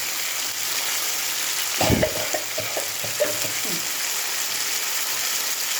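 Ginger with ground coriander, cumin and turmeric sizzles steadily in a frying pan, with a few clattering stirring scrapes in the middle over the constant frying hiss.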